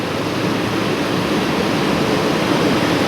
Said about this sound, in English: I think the sound of the water is quite therapeutic